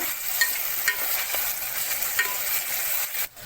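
Tomato and ginger are stirred in a pan for kuthiraivali khichdi, giving a steady, close scraping sizzle with occasional spoon knocks and a brief lull near the end, with no voices.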